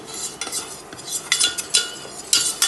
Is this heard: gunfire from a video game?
no